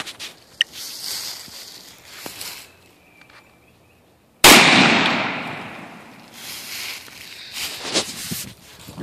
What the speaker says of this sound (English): we're using a 12-gauge shotgun.